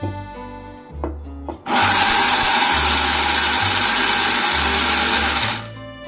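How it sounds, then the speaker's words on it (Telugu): A mixer grinder starts after a few short knocks and whirs loudly at a steady high pitch grinding coconut, then cuts off near the end. "అందుకని నేను ఇలా మిక్సీ వేస్తున్నాను"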